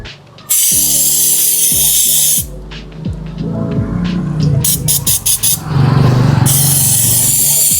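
Cleaner sprayed onto the throttle body of a Toyota Corolla, loud hissing aerosol bursts close up, broken by a humming idling engine with squealing tones and short repeated spray puffs.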